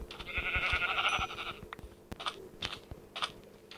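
A sheep bleats in the Minecraft video game, a nasal, wavering cry lasting about a second near the start, followed by quieter game sounds and soft clicks.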